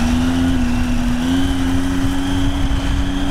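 A Triumph motorcycle with a slipping clutch revs steadily and loudly close by, its engine note holding a sustained drone with a slight rise partway through, no voices present.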